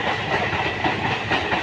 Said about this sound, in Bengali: এই যে লোকাল ট্রেন যাচ্ছে ডানকুনি।